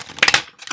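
Short, crisp burst of oracle cards being shuffled in one direction, a quick flurry of papery flicks and snaps lasting under a second.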